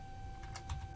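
A few light keystrokes as an answer is typed into an online percent math exercise, brief clicks over a steady electrical hum.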